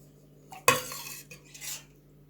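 Metal saucepans clink and scrape as curd for Munster cheese is poured into a mould, one sharp clatter followed by softer knocks and sliding sounds, close and alone.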